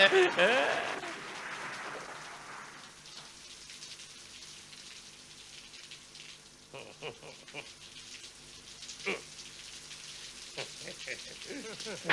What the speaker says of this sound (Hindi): अरे बाहर बारिश भी है और मजा आ जाएगा।